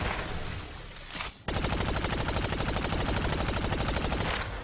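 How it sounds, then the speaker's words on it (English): Machine gun fire in the game Agents of Mayhem: after a muddled opening, a long unbroken stream of very rapid, evenly ticking shots, loud and close, running to the end with no talk. "Firing on the enemy target."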